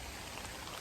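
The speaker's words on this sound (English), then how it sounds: "this is proper rain." A heavy rain shower falls in the countryside by a field, a constant fairly faint wash of raindrops hissing evenly.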